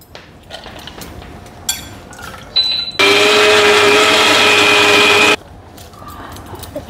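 Kitchen mixer grinder whirring hard as it grinds soaked lentils for masala vada, a loud steady motor roar of about two seconds between quieter clinks and handling noises.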